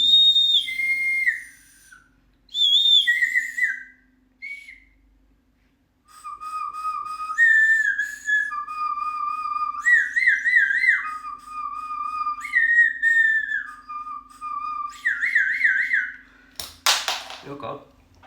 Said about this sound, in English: there you go, tiny slide whistle